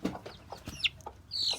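Young rooster chick clucking in short, irregular soft clucks and small chirps close by, ending in a brief higher squawk, with no voices.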